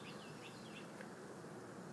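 Honeybees swarm around a hive trapout cone, producing a steady, dense outdoor buzz with scattered high chirps or whines over a constant hum and no talking.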